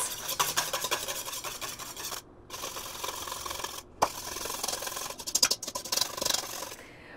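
Paleo mayonnaise being whisked by hand in a bowl: steady close rasping and scraping strokes, rapid and rhythmic, with a few brief pauses and sharper clicks of the utensil against the bowl.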